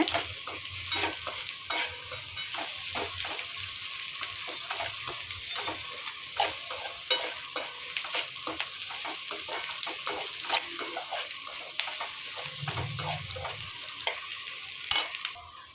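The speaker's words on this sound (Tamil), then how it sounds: "ஒரு ரெண்டு நிமிஷம் பொன்னிறமாக வணக்கிக்கோங்க" Frying for pepper chicken gravy, stirred in a pan until golden: a constant sizzle with frequent sharp spoon scrapes and taps against the pan, close and clear, no talk.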